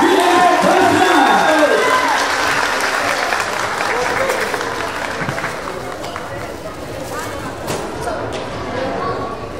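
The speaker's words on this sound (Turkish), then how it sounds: "Hep birlikte kuvvetli alkışlarla başlasınlar" Vigorous audience applause mixed with cheers greets young high-school chef contestants at a cooking competition, loud and crowded at the start, then easing slightly as a voice speaks faintly under the clapping.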